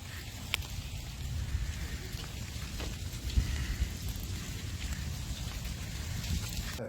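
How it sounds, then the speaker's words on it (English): Rain and hail fall steadily in windy, colder-than-usual weather, a broad continuous patter with occasional sharper hits from hailstones, at moderate level with no speech. "so we were getting uh, wind, rain, hail."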